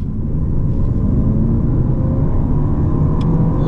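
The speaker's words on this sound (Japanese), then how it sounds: "じゃあちょっと加速できる場所なので、ちょっと床まで踏んでみましょうかね。" A Lexus LM500h hybrid minivan accelerates hard with the pedal floored. A steady low engine and road rumble is heard from inside the cabin, loud and unbroken, with no talking.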